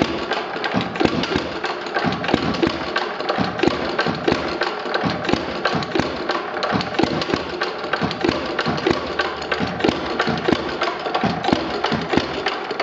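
A cold Ideal Model R hit and miss engine, with a leather-belt-driven cooling fan blowing over the cylinder, runs roughly with uneven thumping beats over a constant mechanical clatter, loud and close.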